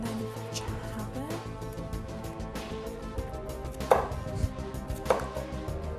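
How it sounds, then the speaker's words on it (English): A knife chops vegetables on a cutting board for a Turkish salad, striking in steady, close, crisp taps. A few louder strikes stand out, and light kitchen background noise runs underneath. "So once you're done chopping,"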